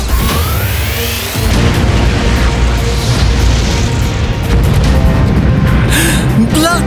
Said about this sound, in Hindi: एवान के फ्लेम अटैक ने फैंटम स्पाइडर को पछाड़ दिया है